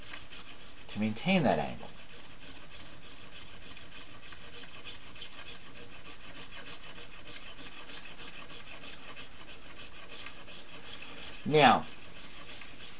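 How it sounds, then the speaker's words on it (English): Scissors being sharpened on an Arkansas stone give a faint, steady rasping rub, with two brief louder scraping strokes near the start and end, while someone speaks softly over it. "I'm polishing this with this Arkansas stone"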